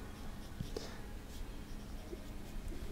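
Steel medium nib of a Visconti Rembrandt fountain pen writing on paper, faint soft scratching strokes, quiet and close with no talk.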